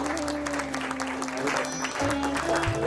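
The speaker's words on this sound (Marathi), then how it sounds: "तर या सर्वांसाठी जोरदार एकदा टाळ्या वाजवूया." Applause at a school student felicitation ceremony, a crowd clapping steadily and fairly loudly while a sustained musical hum and some voices carry on underneath.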